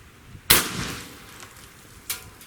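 A ZEUS .72 caliber air rifle fires a slug with a sharp, loud crack that decays quickly. A second, fainter report follows about a second and a half later.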